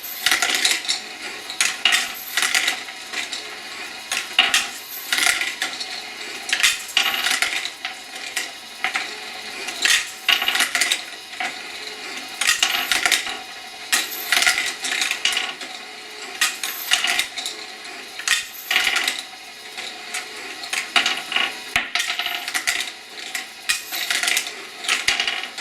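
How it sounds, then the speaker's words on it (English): Brass cartridge cases slide through a DAA automatic brass marker machine, producing a continuous stream of bright metallic clinks, rattles and tumbling clatters in irregular bursts, close and fairly loud, with no talking. "while you're reloading, the bullets are sliding through the machine"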